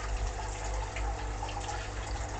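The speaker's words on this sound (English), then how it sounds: "As you can see, the water's flowing at the moment. So it's filling the top, draining to the next one." Water flows steadily through stacked hydroponic grow trays of lettuce, radish and broccoli, filling the top tray and draining into the next, a continuous close trickling gush with no voices.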